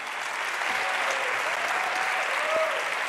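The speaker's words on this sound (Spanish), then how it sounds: "Un aplauso." Audience at a live museum event for the Patricia Phelps de Cisneros collection applauding Ileana Ramírez, a steady, full burst of crowd clapping lasting a few seconds with little else heard.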